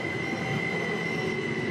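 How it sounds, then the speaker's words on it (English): A light rail train pulls into the Carleton campus stop in Ottawa, its steady rumble of wheels on track running throughout with a sustained high squeal from the rails, loud and close. "This is light rail coming into Carleton campus."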